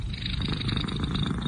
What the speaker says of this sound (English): Oh, purring kitty.